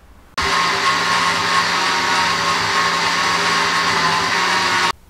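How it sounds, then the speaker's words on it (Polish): A kitchen blender runs steadily for about four and a half seconds, blending chopped jalapeno peppers for a homemade hot sauce base. It starts abruptly, stays loud and even with a constant motor whine, then cuts off cleanly. "Tak więc kroimy, a następnie blendujemy."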